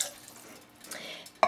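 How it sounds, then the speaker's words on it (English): A cup of water is poured into a simmering pot of Hoppin' John, making a soft liquid splash and trickle that is fairly faint, ending in a brief louder splash. "So I've got a cup of water going in."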